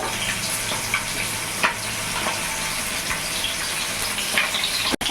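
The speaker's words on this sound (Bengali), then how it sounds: "একদিকে আমার মাছটা ভাজা হয়ে গেছে" Rohu fish sizzles steadily in hot oil in a pan, a close, continuous crackling hiss with a few louder spatters and a sharp clatter at the end.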